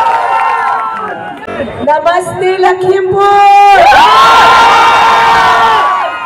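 A crowd of fans cheers, shouts and whoops for a Bollywood actress at a jewellery show in Lakhimpur, the noise swelling loud and sustained while someone speaks over it through an amplified sound system.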